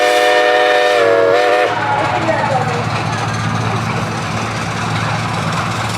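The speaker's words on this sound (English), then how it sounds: "Larry, give us the whistle we're getting in." A steam engine whistle at an outdoor steam and engine show blows one loud, steady blast for about two seconds, then cuts off. A rumbling engine and crowd noise carry on, with people talking nearby.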